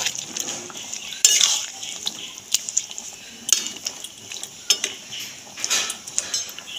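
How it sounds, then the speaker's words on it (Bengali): A spoon stirs jackfruit and prawn curry in a pan, with scrapes and sharp metallic clinks against the pan at irregular moments. A soft bubbling sound continues underneath. "একটু নাড়িয়ে নেব"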